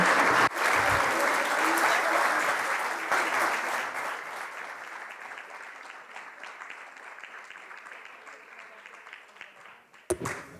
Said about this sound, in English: receive a round of applause for organizing this summit